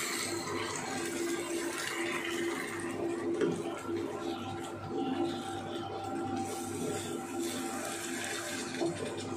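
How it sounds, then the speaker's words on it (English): Water poured into a pan of masala, a steady splashing and sizzling wash that continues evenly throughout with no talking. "Now we will add little bit of water."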